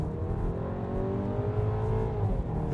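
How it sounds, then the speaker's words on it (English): Turbocharged four-cylinder engine in a Volkswagen Tiguan Turbo SUV holds a steady, continuous drone under acceleration, heard from inside the cabin with no talk over it. "the 4-cylinder has that typical 4-cylinder drone to it"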